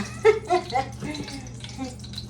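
Pork fat sizzling and crackling in hot cooking oil, a steady close hiss with brief louder bursts near the start and a voice briefly over it.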